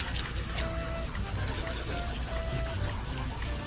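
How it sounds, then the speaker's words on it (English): Running water rinses color cleanse out of hair in a steady, close hiss and gush that stays even throughout, with faint incidental tones underneath. "So now we rinse out our color cleanse."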